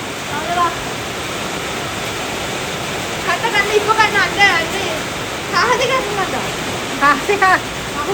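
Heavy rain pours in an Oman wadi, a dense steady roar of water close by, while voices talk intermittently over the downpour.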